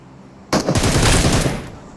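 A mounted gun in a Hindi-language multiplayer shooter game fires a sustained, loud burst of rapid automatic shots that bursts in abruptly and rattles on to the end.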